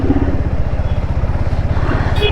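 A motorcycle on a single-lane highway under construction, its engine giving a loud, close, steady low thrum with a rapid pulsing rhythm, accompanied by rushing wind and faint voice traces.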